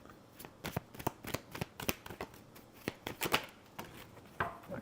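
Tarot cards being shuffled and one drawn, a quick run of close, crisp riffles, flicks and taps in uneven bursts, soft and with no talking.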